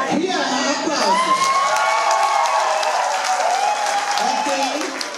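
A nightclub crowd applauds during a dance contest, loud clapping mixed with shrill cheers, whoops and screams sustained across the clip, while voices shout over the noise.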